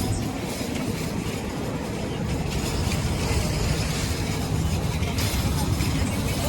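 A New York subway train runs with a steady, loud rumble and rattle of cars on the track, a continuous close roar with faint voices mixed in.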